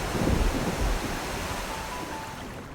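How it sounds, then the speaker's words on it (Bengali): Rain starting in the forest at Khadimnagar, Sylhet, heard as a dense, steady broadband rush like surf, louder at first and then settling into an even wash. "বৃষ্টি আইছে ভাই"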